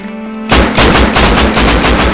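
Gunfire in the survival game Rust: after a brief quiet hum, a loud, rapid burst of automatic shots hammers out at a steady rhythm, close and punchy.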